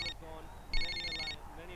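A cordless phone rings in a home in two or three short electronic bursts, a bright repeating tone heard close by, with people talking over it.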